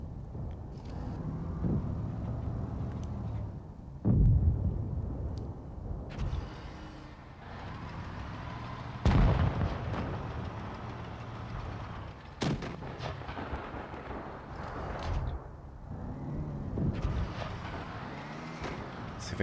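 Tank cannon fire in World of Tanks Blitz, several heavy booming shots spaced apart over a rumbling engine and battle background, each blast loud and close with a short decaying tail.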